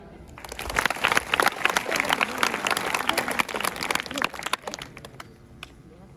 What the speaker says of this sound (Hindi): बच्चों, ताली बजाओ।